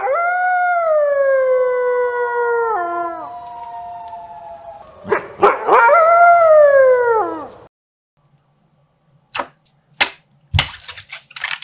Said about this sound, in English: Is that a wolf?